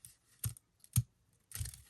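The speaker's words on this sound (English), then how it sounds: "I'm going to grab my edge scissors, and I'm just going to go around" Edge scissors snipping around a paper craft flower, giving three separate crisp cuts spaced apart, with a longer rustling cut at the end, close and fairly quiet.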